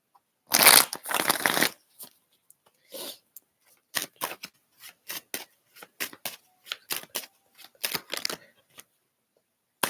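Tarot reading cards being shuffled by hand at close range: a dense riffle burst near the start, then a steady run of crisp, separate card slaps and flicks, with no talking.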